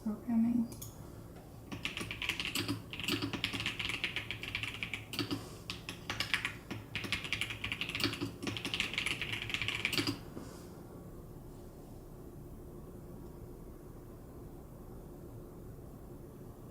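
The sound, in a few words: typing on a Keychron computer keyboard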